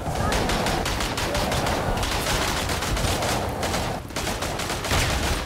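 Gunfire in the World War I shooter Verdun during a C96 pistol duel with Bar and Lewis gunners: dense, rapid shots crackle continuously at moderate loudness, with one short lull near the end.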